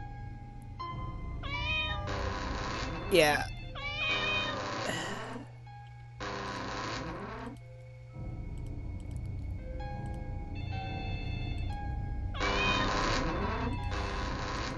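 Cats meow repeatedly in The Grudge 2 flash game, a series of loud overlapping meows and wails in bursts with pauses, over a constant low hum and faint ticking, with a brief spoken word.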